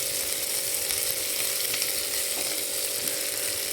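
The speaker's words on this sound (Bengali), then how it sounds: "এবার এটা দিয়ে আমি একটু নাড়িয়ে চাড়িয়ে নিচ্ছি, যেহেতু পেঁয়াজও ব্রাউন হয়ে গেছে" Steady sizzling of vegetables frying in a pan with browned onion, ginger and garlic while being stirred, a constant dense hiss throughout with faint scraping and no voices.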